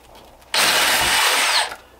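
A power drill fitted with a 1/4-inch bit bores through the foam jaw of a DIY demon skull prop, bursting into a loud, steady high-pitched whine that holds for about a second before cutting off.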